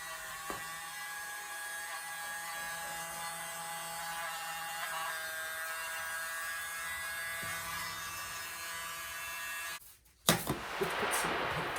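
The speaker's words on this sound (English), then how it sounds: "Let me get my little blower." A small electric blower whines steadily at close range while it clears dog hair from a Dutch acrylic paint pour on a 16 x 20 canvas. A sharp clatter and rustle break in near the end.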